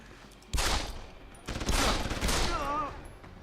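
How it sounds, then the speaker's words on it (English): Two loud bursts of rapid gunfire in the video game Deus Ex: Human Revolution, each lasting about a second, separated by a brief pause, with a thin whistling tone near the end. "Hey, you're shooting guns?"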